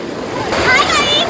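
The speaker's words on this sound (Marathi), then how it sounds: "सगळ्यात मोठी लाट आली" Big sea waves break and wash ashore on a Konkan beach in a loud, continuous surging rush, with excited voices shouting over the surf.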